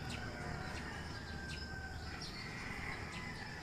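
Faint bird chirps and short calls at dawn scattered over a steady outdoor ambience, with distant tweets repeating irregularly against a low background rumble.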